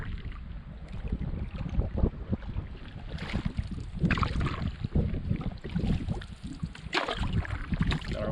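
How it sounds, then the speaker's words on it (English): A new canoe is paddled on a lake with the wind at the back, soft splashes and knocks of paddle strokes come through under steady wind buffeting the microphone, with no talk. "First few strokes with the new canoe."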